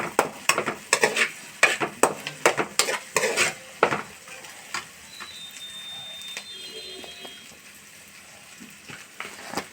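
Curry leaves fry in a pan and are stirred, with a run of sharp clinks and scrapes of the utensil against the pan over a steady sizzle, then the stirring stops and a softer sizzle carries on.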